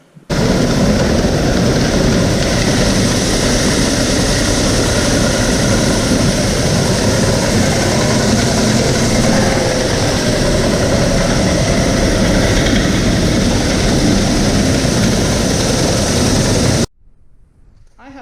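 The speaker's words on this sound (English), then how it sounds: "So we hook this auger up and we plug it in, and what that does is it pulls all the corn to the middle." An electric floor auger in a farm corn bin runs with a loud, steady mechanical roar and grinding drone for about seventeen seconds, then cuts off abruptly.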